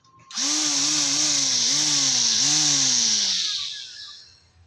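A portable grass cutter's small engine, fitted with a blade cutter, revs up loud and close, holding a steady wavering whine for about three seconds before dropping away to quiet.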